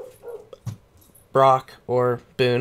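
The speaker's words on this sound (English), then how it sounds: "why, buddy, are you barking so much?" A dog barks three loud, evenly spaced times near the mic, following softer speech from a man during a live gaming talk show.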